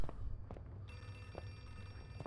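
A telephone rings inside the horror video game Outlast 2, a faint steady tone over a low droning background with a few soft thuds.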